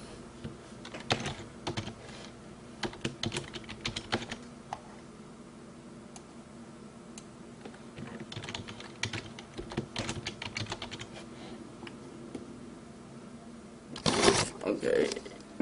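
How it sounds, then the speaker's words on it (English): Typing on a computer keyboard while setting up an operating system install, with scattered bursts of key clicks at close range, low background noise, and a louder handling clatter near the end. "I'll put the camera down for a minute so that I can type that in."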